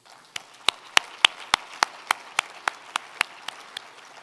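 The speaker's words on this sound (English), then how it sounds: "how about a big round of applause for the GNCC?" Hand claps at a regional chamber of commerce event ring out as a sharp, evenly spaced run of about fourteen distinct claps, fairly close and crisp against a quiet room, more like a few hands than a full crowd.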